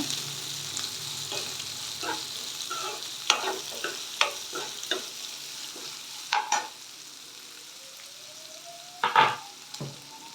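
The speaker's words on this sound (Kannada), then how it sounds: "ಈರುಳ್ಳಿನ ಸ್ವಲ್ಪ ಫ್ರೈ ಮಾಡ್ಕೊಳ್ಳೋಣ" Onions fry in a pan for shavige upma, a vermicelli dish, with a low, steady sizzle under repeated scraping and clinking stirs from a spoon. The stirring comes in irregular bursts, and nobody speaks.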